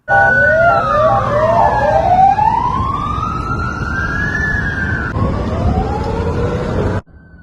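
A loud police car siren wails and sweeps up and down continuously during a chase, close by, then cuts off abruptly near the end.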